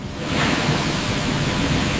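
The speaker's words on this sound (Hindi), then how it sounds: "शुद्धि का पहला चरण, जहां पानी गन्ने की बाहरी अशुद्धियों को धो देता है।" Water rushes steadily over sugarcane in a factory washing stage, a continuous broad wash of splashing and flowing noise with no talk, even and moderately loud throughout.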